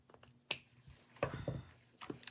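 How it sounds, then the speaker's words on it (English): Scissors make a few sharp, close snips while cutting a small square, in quick irregular clicks with quiet pauses between them. "What I'm doing is cutting."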